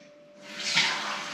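Water running from a tap, a soft hissing splash that swells in after a quiet start and continues steadily, faint and close.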